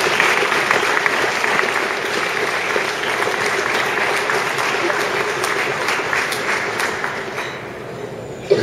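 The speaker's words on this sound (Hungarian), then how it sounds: "Szóljon tehát most a taps." Sustained applause from a large audience at a university graduation ceremony, dense and even clapping that carries on steadily before thinning out at the end.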